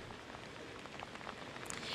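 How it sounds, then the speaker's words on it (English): Steady rain pours down on Main Street in Sunset Beach as a storm with strong winds approaches, a dense continuous hiss of falling water and gusts that holds level throughout and swells slightly at the end. "The rain is coming down, the wind, we can feel it"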